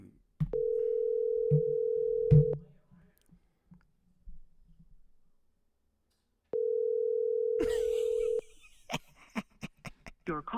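Ringback tone on a phone line as a call goes out, two long steady tones separated by a silent gap, with soft speech and clicks beneath the first and sharp clicks and rustling after the second.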